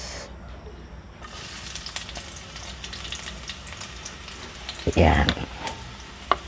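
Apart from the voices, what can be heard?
onions sautéing in hot oil in a pan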